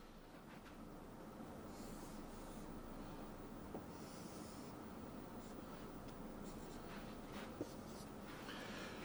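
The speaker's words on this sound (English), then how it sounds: "let's draw our triangle." A pen scratches steadily across paper, drawing a triangle, a faint continuous rasp over a quiet room with soft breathing.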